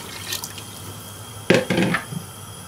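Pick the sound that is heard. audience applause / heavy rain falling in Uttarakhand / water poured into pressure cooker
water poured into pressure cooker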